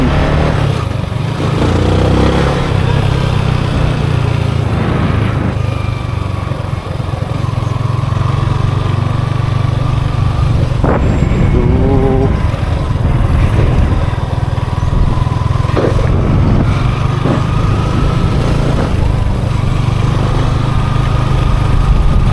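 A motorcycle engine idles steadily and loudly nearby throughout at Dapitan Port, Zamboanga del Norte, with a constant low rumble and occasional clattering and small revs.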